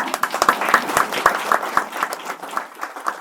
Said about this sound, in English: I would love to give a round of applause to Shayla.